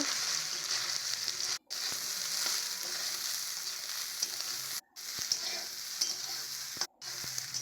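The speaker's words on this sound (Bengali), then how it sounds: "ওই তেলে আমি সয়াবিনগুলো ভেজে নেব" Soy chunks fry in oil in a pan with a continuous crackling sizzle and some stirring, interrupted by three short breaks of silence, with no voices.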